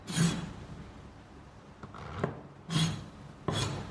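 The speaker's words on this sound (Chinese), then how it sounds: "准备一把白玉菇，把根部给它切掉一点" A knife cuts the roots off white beech mushrooms, making a few short, close rasping slices and light taps against the board, with quieter rubbing between cuts.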